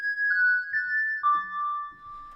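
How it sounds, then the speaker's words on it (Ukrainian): A layered bell synth preset in FL Studio plays a short melody of bright, sustained chiming tones, three or four notes stepping downward, clean and alone with no voices. "Далі я хочу зробити леєрінг цих дзвоників, тому що мені не вистачає трішки верху."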